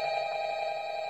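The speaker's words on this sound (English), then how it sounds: "That's the phone." A telephone rings inside the video game Rec Room, a steady electronic tone held at an even level for the whole short stretch, with no talk over it.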